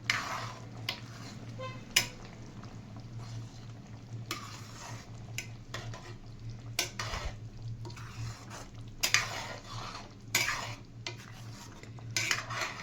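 A spoon scrapes and clinks around a pot of onion curry seasoned with chili and turmeric, giving irregular knocks over a low, faint sizzle and a steady background hum.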